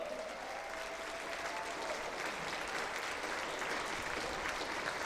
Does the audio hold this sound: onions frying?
no